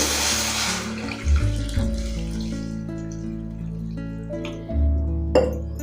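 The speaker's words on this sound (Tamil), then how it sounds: "இப்போ நம்ம சூப்பு எந்த அளவுக்கு தேவையோ அந்த அளவுக்கு நம்ம தண்ணி சேர்த்து" Water poured into a pan of fried vegetables for soup, a steady gushing splash with a couple of louder surges, close by and alone.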